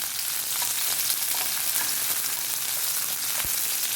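Onion and green chilli frying in a pan for dragon chicken, a dense, continuous sizzle that stays even throughout, with one brief low knock near the end and no voices.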